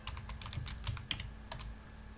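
Quiet, steady typing on a computer keyboard, a rapid run of light clicking keystrokes over a low background hum.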